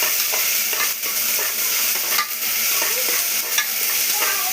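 Tempering spices sizzling in hot oil for tomato rice, a loud, dense crackle with stirring scrapes across it, close and continuous with no voices.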